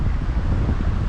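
Steady, loud wind buffeting the microphone at a lakeside campsite, a dense low roar with gusty fluctuations throughout and no other clear sounds.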